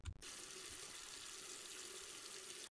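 Coffee being poured in the video game Coffee Caravan, a steady, loud stream of splashing liquid running without pause for nearly three seconds after a brief thump at the start.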